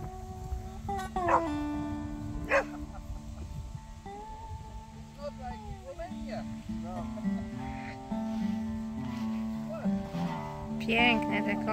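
A dog in a rural morning setting near horses gives a few scattered barks and softer whimpering yelps over a low steady background, with other voices and animal sounds faintly mixed in.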